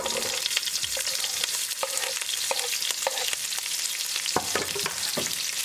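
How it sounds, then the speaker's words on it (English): Ginger, garlic and green chilies fry with cumin seeds in olive oil, giving a loud, continuous crackling sizzle close by, broken by the repeated scrape and tap of a stirring utensil. "now add ginger, garlic and green chilies at the same time"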